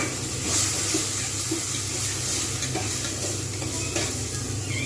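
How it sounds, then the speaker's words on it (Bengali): Small chopped cauliflower pieces fry with onions that are already fried in a pan for a winter vegetable soup. A steady, close sizzling hiss runs throughout over a low hum, with occasional soft stirring scrapes. "এবার আমি এর মধ্যে দিয়ে দেবো ফুলকপি কেটে রাখা ছোট ছোট করে"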